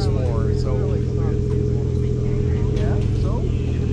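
MKIV Toyota Supra exhaust droning steadily from inside the car on a road trip, a constant low engine hum sitting beneath continuous conversation.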